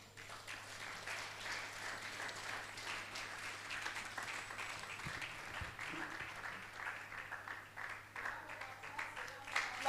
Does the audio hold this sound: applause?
yes